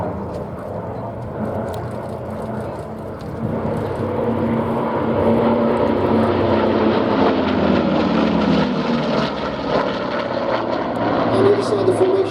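Vintage Second World War-era propeller aeroplanes flying past in formation at an airshow, a steady droning engine roar swelling as they pass, with a commentator talking over it.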